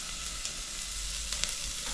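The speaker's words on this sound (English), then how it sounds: "but little oil so that the onion will fry nicely" Onion, garlic and curry leaves fry in a little oil, giving a steady close sizzle and crackle with a few sharp pops and no talking.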